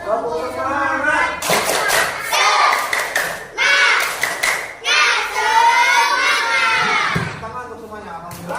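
A grade 4 class of children in an Indonesian Islamic education lesson performs the rhythmic 'tepuk semangat' clapping chant, with bursts of patterned hand claps mixed with lively chanting voices.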